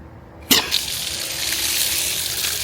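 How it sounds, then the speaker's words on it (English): Water bursts from a gas pump nozzle rigged as a garden hose, a sharp onset followed by a strong steady gushing spray that continues loudly to the end. "so we got full water here now."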